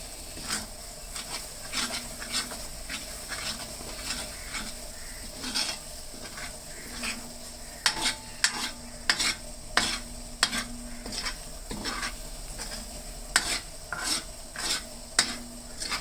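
A spoon stirs kalakand sweet mixture with cashews in a pan, scraping and clinking against the metal in a repeated rhythm of sharp strokes over a low sizzle, with no voices.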